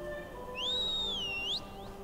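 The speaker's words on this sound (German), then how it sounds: "Hat er jetzt eine Pfeife benutzt oder hat er seinen Finger gepfiffen?" A whistle is blown in The Elder Scrolls Online, a single clean rising-and-falling tone lasting about a second, clear over a quiet game ambience with no talk.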